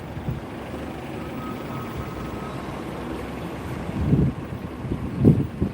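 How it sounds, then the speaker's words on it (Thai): A passenger water bus boat passes on a river in Thailand, a broad, rushing engine and water rumble blended with wind noise, swelling in two surges near the end. "มีรถเมล์รับส่งน้ำพี่น้องเลย"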